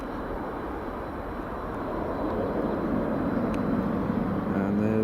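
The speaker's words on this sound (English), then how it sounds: "And there's the TUI Dreamliner just taxiing along to stand." TUI Boeing Dreamliner airliner taxiing at Glasgow Airport, a steady broadband jet rumble that builds slightly louder over the clip, heard at moderate distance without talk.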